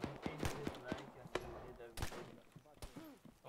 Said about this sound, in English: Machine guns here.